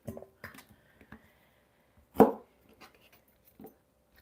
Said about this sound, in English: I'm going to slice up my washed veggies, into sizes like maybe that big.